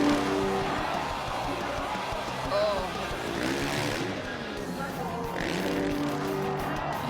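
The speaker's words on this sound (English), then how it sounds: "You can hear him just revving out of that second rotation" A freestyle motocross motorcycle engine screams at high revs during a mid-air rotation at an action-sports event, loud and sustained, under a roaring crowd.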